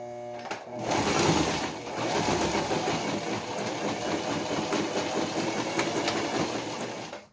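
A sewing machine stitches a straight seam on a doll-making project, a steady dense mechanical whir running continuously at close range for several seconds after a brief start.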